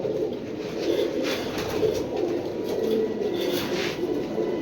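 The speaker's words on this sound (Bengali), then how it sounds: "একটা নর কবুতর, দেখার মতো বিগ সাইজের" A big male pigeon coos in low, repeated throaty rolls, close and steady, with faint rustling around it and no talk.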